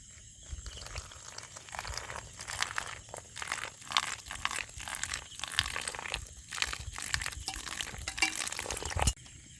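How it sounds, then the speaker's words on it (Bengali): Gram flour batter being stirred with water in a bowl for village-style potato chops, a steady run of soft wet scraping and sloshing strokes, close and fairly quiet, with no talk. "এবার বেসনটা গুলে নেবো আমি জলটা দিয়ে দিই"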